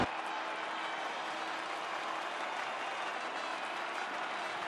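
A race crowd cheers and applauds at the Las Vegas round of the F1 23 video game, a dense, steady wash of clapping and crowd noise that continues without a break.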